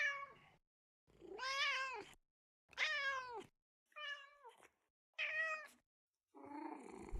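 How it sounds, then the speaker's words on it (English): A pet cat's recorded meows play back in music software, five or six separate drawn-out meows of varying length with short silent gaps between them, close and clear with no talking. "I have meows of my cat in my FL studio."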